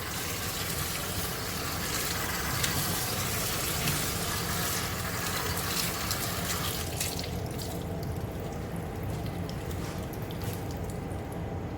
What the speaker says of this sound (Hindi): टैप का ठंडा पानी आप डालें।